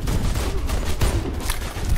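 Dense gunfire from the video game Warface in a team deathmatch clan war, a continuous crackle of rapid shots close by with no voices over it.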